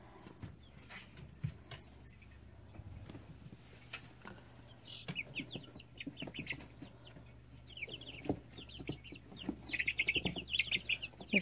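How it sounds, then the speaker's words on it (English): Small Rhode Island Red chicks, about three weeks old, cluck and cheep in a brooder, with soft chirps scattered throughout and a denser burst of higher peeping toward the end over a low steady hum. "Little Rhode Island Red"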